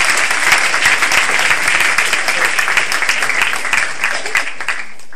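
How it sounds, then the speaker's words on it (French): An audience applauds at a UNI Global Union speech event, a dense burst of many clapping hands that holds steady and then begins to thin out at the end. "Alors, applaudissements à Niels."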